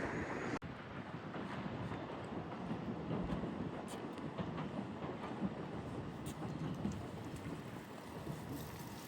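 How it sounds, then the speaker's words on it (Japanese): The Hida limited express train rumbles steadily into Gero station in Japan, a continuous low roar with faint rail clatter, heard from nearby with no talking. "特急飛騨だよね。 入線だ。"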